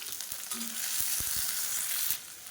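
Small onions left whole sizzle steadily in hot oil for an arachuvitta sambar, a bright continuous hiss with a few soft stirring knocks partway through, close and fairly loud with no talking.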